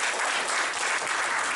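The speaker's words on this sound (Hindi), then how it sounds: "ताली बजाइए" An audience at a memorial charity gathering for children and widows left by the coronavirus claps together in dense, steady applause that fills the space without any speech.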